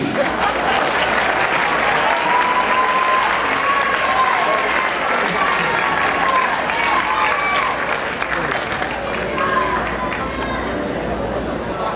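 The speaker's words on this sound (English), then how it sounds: "Let's give everyone a nice big round of applause" Sustained applause from a large audience at a children's play of Sleeping Beauty, steady and full throughout, with a few cheers and whistles rising above the clapping.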